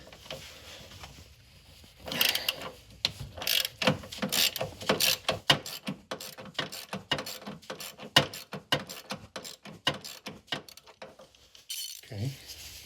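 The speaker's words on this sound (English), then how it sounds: "I've got a ratchet with an extension with wobble to get this nut and just loosen." Ratchet with a wobble extension loosening a passenger-side engine mount nut on a 2013–2016 Dodge Dart, heard as a close run of quick sharp clicks that speeds up and then stops, with a brief clunk near the end.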